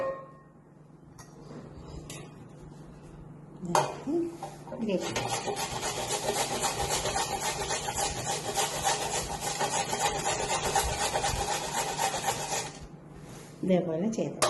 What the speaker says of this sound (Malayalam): 1 കിലോ ക്യാരറ്റ് തോലൊക്കെ ചെത്തി ഇത് നമുക്കൊന്ന് ഗ്രേറ്റ് ചെയ്തെടുക്കാം.